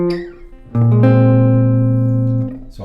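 Jazz guitar phrase from a jazz tune, second ending of the B section: a couple of quick plucked notes, then a slide up into a long sustained ringing note that fades near the end, played alone and close.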